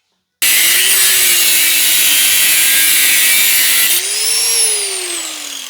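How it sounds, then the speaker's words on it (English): Power saw cutting metal pieces for a homemade front-mount HEI distributor on an LS 5.3, one continuous loud harsh grinding whine that starts abruptly, holds steady for several seconds, then shifts pitch as the cut finishes. "Let me get some metal cut"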